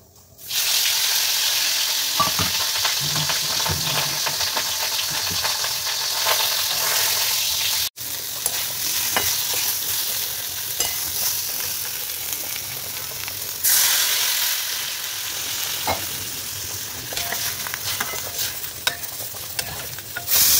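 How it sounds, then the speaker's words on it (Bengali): Fish curry with onions cooks in a pan, a loud continuous sizzle and hiss with frequent scraping stirs and clatter, close by and without speech. "পেঁয়াজ দিয়ে একটু মাছের ঝোল করছি"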